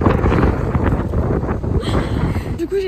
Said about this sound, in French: il y a pas mal de vent à Marseille